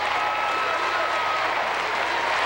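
Large arena crowd at an Olympic women's gymnastics team competition roaring and applauding, a dense, steady wash of clapping and cheering that holds at full level throughout.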